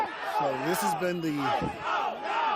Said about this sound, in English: you can hear the crowd now saying ICE out now